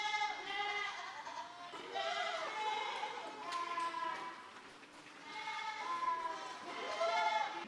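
Adult goats bleat repeatedly on a farm, several wavering, nasal calls overlapping one another at moderate distance, continuing for several seconds with no clear talk.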